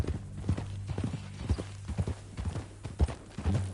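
Horse hooves clip-clop in a steady, even rhythm in the Red Dead Redemption 2 video game, close and clear over a low hum, with no talking.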